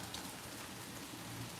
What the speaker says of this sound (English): Like when it rain down south, that should be raining for real, for real.